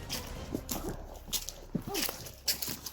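Dogs are faintly present: soft whimpers and rustling movement, with footsteps and a few quiet scuffs at a distance.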